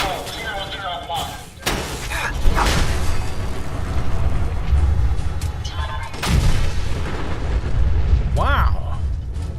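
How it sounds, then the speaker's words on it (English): A turret bot self-destructs in Fallout 4, bursting with deep booming blasts and rumbling debris amid continuous loud combat noise, with sharp cracks and a swooping electronic tone near the end. "Wow. They explode."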